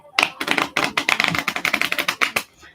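A Lenormand card deck is shuffled by hand up close, giving a quick run of crisp riffling flutters and taps with short pauses between bursts.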